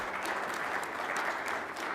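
An audience at a technology best-practices meeting applauds steadily, a moderate, even patter of many hands clapping for a couple of seconds with no voices over it.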